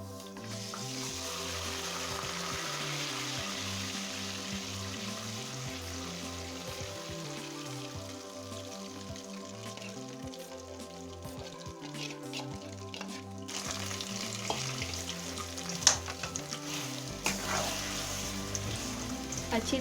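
Soaked semolina hisses and sizzles in melted sugar in a pan for makhadi halwa, a steady crackling fry over a low, droning background hum, with faint stirring scrapes.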